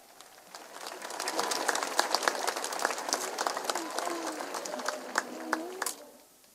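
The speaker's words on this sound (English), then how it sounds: "Let's give this group a round of applause for their efforts." An audience applauds graduating students at the Connellsville Area School District 2024 graduation ceremony. The clapping swells after a quiet start, holds as a steady, somewhat distant patter for several seconds, then tapers off.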